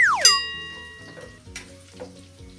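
Garlic hits a frying pan with a faint, close sizzle and occasional utensil scrapes and clinks, following a bright descending chime at the start.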